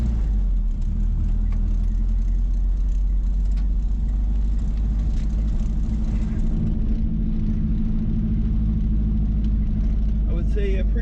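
An 86–93 Mazda B Series pickup fitted with Holley Sniper EFI, restarted after sitting about ten minutes, idles with a steady low rumble throughout, close and continuous with faint rustling.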